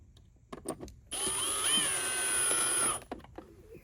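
A power drill whirs steadily for about two seconds at its lowest speed and lowest clutch setting, with a slight pitch wobble midway, framed by quiet clicks and handling noises, while driving screws on a vacuum cleaner.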